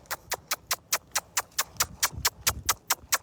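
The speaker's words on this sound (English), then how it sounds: "I'm going to send this horse around" A horse walks steadily around a circle, its hoofbeats making a regular clip-clop with about fifteen crisp, evenly spaced strikes at moderate distance.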